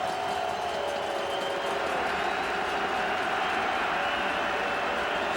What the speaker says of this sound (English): they have to tighten up in that huddle because of the crowd noise